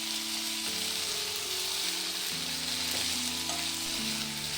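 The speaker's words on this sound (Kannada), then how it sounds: "ಹಾಕಿರೋ ತರಕಾರಿಯನ್ನು 2ರಿಂದ 3 ನಿಮಿಷ ಚೆನ್ನಾಗಿ ಬೇಯೋವರೆಗೂ ಫ್ರೈ ಮಾಡಬೇಕು." Vegetables for masala upma fry steadily in a hot pan, a continuous close sizzle with stirring scrapes and a faint tonal hum beneath, no voices.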